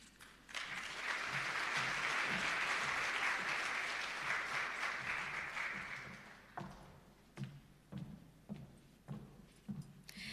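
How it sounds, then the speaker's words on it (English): An audience at a quality recognition ceremony breaks into sustained, dense applause that holds for several seconds and then thins out into a few scattered, fading claps. "Can we give her another round of applause, please?"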